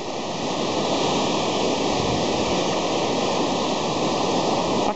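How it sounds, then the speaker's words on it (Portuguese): Rough sea with strong swell on a beach at Ubatuba, Brazil, producing a loud, continuous roar of crashing surf and a slight swell in intensity, with no voices. "Hoje o mar tá de ressaca. A ondulação tá muito forte."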